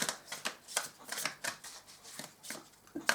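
Oracle cards shuffled by hand in a steady run of crisp riffling bursts, close and fairly loud, with no talking.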